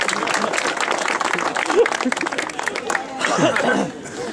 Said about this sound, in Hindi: अरे ताली बजाओ भाई, ताली बजाओ।